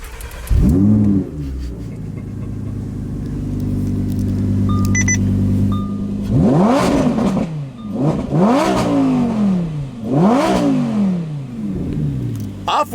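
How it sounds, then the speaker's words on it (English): A 2020 Lamborghini Huracan Evo's V10 fires up with a sharp bark, settles into a rumbling idle, then rips through several rising, high-pitched revs in close succession, loud and near. "Let's hear this Huracan because honestly, that V10 is ridiculous."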